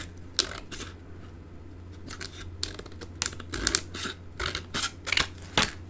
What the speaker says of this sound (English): just going to trim off the excess.